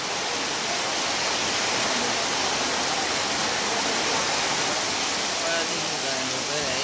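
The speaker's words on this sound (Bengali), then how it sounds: "এমন বৃষ্টি হচ্ছে মহেশখালীতে" Heavy monsoon rain pours down in Maheshkhali, a dense, constant roar of falling water that fills the whole clip with no break.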